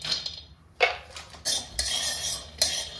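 Dry peanuts tossed in a hot wok (kadai) over a gas flame, with a metal spatula scraping and clinking against the pan in several separate sharp bursts, close and fairly loud.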